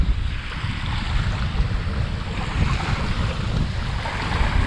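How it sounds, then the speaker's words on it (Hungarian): Strong wind roars steadily across a pebbly sea beach, mixed with broadband surf and wind buffeting on the microphone, loud and continuous throughout with no voices. "Csak nagyon erős szél fúj most is."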